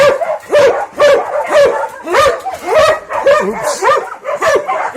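Several dogs bark excitedly in rapid, overlapping bursts close by, with yips and whimpers mixed in and a steady, loud chorus throughout.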